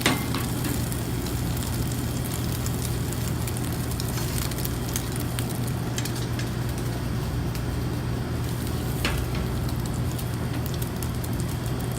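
A Monte Cristo sandwich sizzles in a hot frying pan, giving a steady, moderate hiss with faint crackles and a low background hum, no talking.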